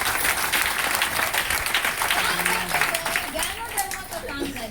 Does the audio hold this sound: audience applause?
yes